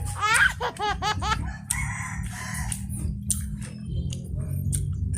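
A chicken crows and clucks loudly up close, a rapid series of squawking calls followed by softer clucking over low background rumble.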